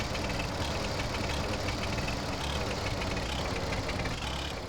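Steady, unbroken motorbike engine drone in GTA San Andreas, a dense rumbling idle held at constant loudness throughout with no talking.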